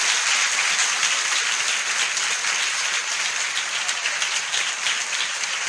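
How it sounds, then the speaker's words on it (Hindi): A church audience applauds for Jesus in a dense, steady wash of clapping that holds at full strength for several seconds, with no voices over it. "क्या हम यीशु के लिए ताली बजा सकते हैं?"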